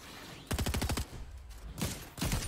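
Rapid burst of about eight gunshots from a weapon in the video game Fortnite, loud and evenly spaced, followed by further shorter volleys of game gunfire.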